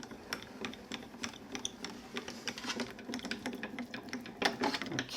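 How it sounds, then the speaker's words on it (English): A die-cutting and embossing machine is cranked by hand with a tan mat and pink plate passing through, giving off soft, irregular mechanical clicks and ratcheting ticks, close and quiet, with no talking. "I'm going to put it onto the tan mat with my pink plate and run it through again to give it an emboss."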